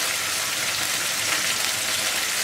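Chicken sizzling steadily in a pan with red curry paste, a soft, even frying hiss that stays unbroken throughout.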